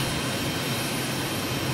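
Steady broadband roar of a jet trainer's engine in Microsoft Flight Simulator 2020, a fast, maneuverable T-45 or MB-339 in flight, continuous and fairly loud with no voices.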